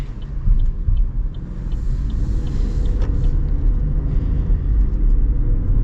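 A small three-cylinder engine in a 2025 Chevrolet Trax drones steadily with a low rumbling hum, heard from inside as the vehicle drives along at modest speed.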